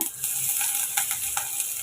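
Steady hissing sizzle of chopped onions frying in hot oil, with faint scraping and stirring sounds throughout and no voices.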